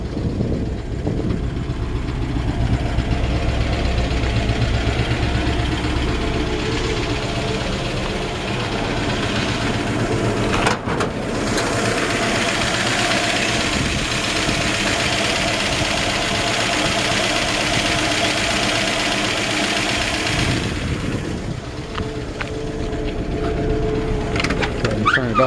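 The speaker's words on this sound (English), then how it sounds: "Engine sounds good. It's got good power." 1957 Chevrolet 210 engine running at a steady idle, a continuous low rumble close to the microphone for the full length, with a brief sharp knock partway through.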